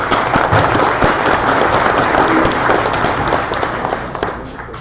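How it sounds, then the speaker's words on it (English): Loud audience applause at a club meeting, many hands clapping in a full, close, sustained burst that thins slightly toward the end. "they deserve a round of applause"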